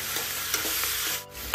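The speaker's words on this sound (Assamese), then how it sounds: "মাংসখিনি মছলাৰ সৈতে মই কমেও 15-20 মিনিটমান একদম মিডিয়াম ফ্লেমত ভাজিম" Pork with potatoes frying in spices in a pan over a medium flame: a steady, close sizzle with a few soft stirring scrapes, and no voices.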